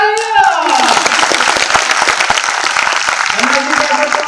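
A group claps fast and dense for a few seconds at a parenting and wellbeing session, with voices talking over the clapping.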